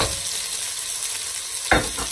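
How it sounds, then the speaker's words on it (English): Onions browning in a pan give a steady, fairly loud sizzle and fry with no one talking, and a short scrape of stirring comes near the end. "what we want to do is brown these onions off"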